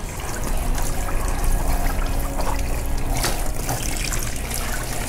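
Tap water runs steadily over goalkeeper gloves left soaking palm-down in a sink, a close, continuous splashing trickle with no talk.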